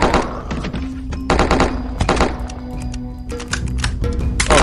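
Rapid automatic gunfire from a weapon with heavy recoil in the zombie shooter game Dead Zed, with loud dense bursts of shots repeating through the whole stretch and no talk.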